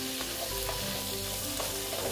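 Spice masala frying with tomatoes in a pan for an eggplant dish, a loud, continuous sizzle with stirring scrapes throughout and no voices.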